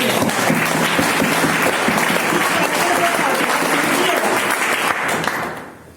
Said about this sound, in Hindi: उसके लिए हम चाहेंगे एक बार जोरदार ताली